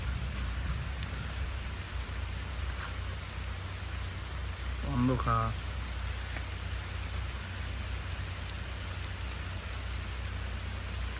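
Steady rain falls outdoors as a constant soft hiss under a brief exchange of voices, with a faint low hum running beneath throughout.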